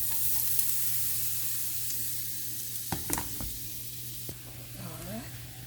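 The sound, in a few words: julienned vegetables with black pepper and salt sautéing in pot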